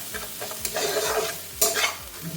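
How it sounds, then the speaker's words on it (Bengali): Egg fries crumbled in a pan with onion and green chilli, a soft sizzle under frequent spatula scrapes and stirring taps, near and clear with no voices. "ডিমটা এরকম ঝুরি ঝুরি করে ভেজে নেব"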